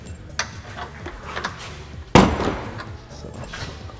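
Metal tools clink and clatter on a garage floor during BMW 1 Series control arm work, with light scattered taps and then one sharp loud metallic clang, close by.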